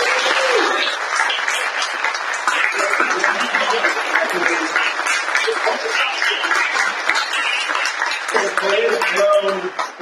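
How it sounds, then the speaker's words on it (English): Steady, loud applause from a dinner audience at a digital health event, a thick wash of many clapping hands sustained throughout with a few voices faintly audible under it. "can I get you to make another round of applause for Dr."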